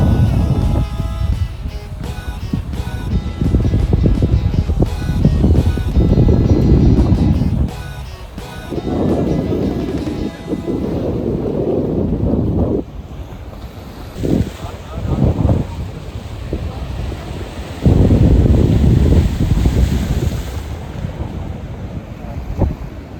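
Ocean waves surge and crash at a city beach in Cyprus, loud and continuous, with heavy wind buffeting the microphone throughout.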